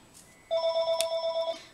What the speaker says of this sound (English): I forget to turn my phone off, or at least to take it out of the room when I do my videos.